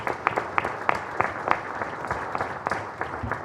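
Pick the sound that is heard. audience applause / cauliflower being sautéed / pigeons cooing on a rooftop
audience applause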